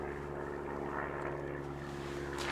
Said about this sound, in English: Wave at the plane.